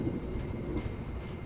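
Passenger train riding, a steady low rumble and rolling drone heard from inside, continuous and fairly loud with no talk.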